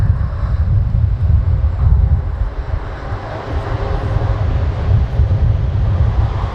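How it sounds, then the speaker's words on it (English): Airbus A400M turboprop landing at an air show and using reverse thrust, heard as a loud, continuous, rumbling engine roar with heavy low-end power that stays steady throughout. "known as the beta position to produce reverse thrust and reduce the ground roll"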